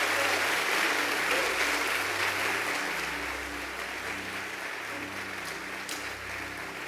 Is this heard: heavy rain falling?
no